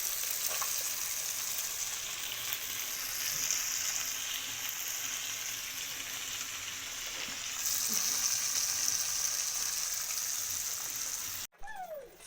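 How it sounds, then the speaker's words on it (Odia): A fish head sizzles steadily in hot oil in a home kitchen while a fish curry is being made, a dense continuous frying hiss that swells slightly midway, with a short clatter near the end. "ଲାଷ୍ଟ ଏଇଟା ମୁଣ୍ଡ ଭଜା ହେଉଛି, ମାଛ ଭଜା ସଇଲାଣି।"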